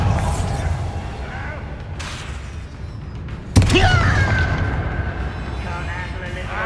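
The Bombarda spell from Hogwarts Legacy goes off in a single sharp, loud blast with debris and ringing after, set against a dense game soundscape and voices.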